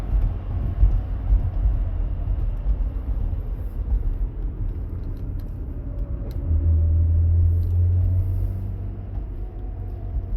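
A 1982 Datsun 280ZX with its straight-six engine on the road, a steady loud low rumble with road noise that swells a little louder partway through, no voices.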